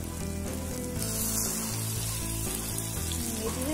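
Eggs frying in a pan for a tempered egg dish give off a continuous close sizzle and crackle, steady throughout, with no talking.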